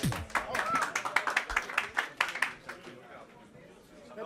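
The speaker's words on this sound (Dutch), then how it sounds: "Applaus voor Quo" An audience claps for a hip-hop performer at a live show, with a short burst of scattered hand claps mixed with a speaking voice that fades out after a few seconds.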